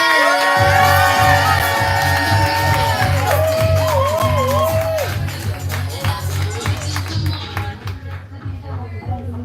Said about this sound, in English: Make some noise for Freek